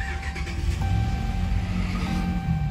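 A 2006–2012 Dodge engine turns over and settles into a steady idle close by, with a low rumble and a faint whine holding on throughout and no speech.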